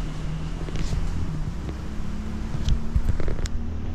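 Cars going by on roads between two bridges on a windy day, heard as a steady low rumble of traffic mixed with wind noise buffeting the microphone, moderately loud and continuous.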